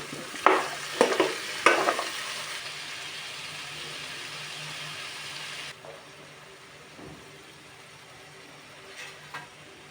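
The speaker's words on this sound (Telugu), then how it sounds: "ఇప్పుడు మనం దీంట్లో క్యాప్సికమ్ వేసుకుందాం." Capsicum added to potatoes frying in a pan, with a few sharp clatters and stirring scrapes at the start, then a quieter, even sizzle that continues.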